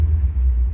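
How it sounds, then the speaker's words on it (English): A 1956 Ford Fairlane Sunliner convertible's 312 V8 with two four-barrel carburetors idles in a steady, loud, deep rumble, smooth and even for a brief moment with no voices. "even sounds good with that 312 with them 2 4s on it"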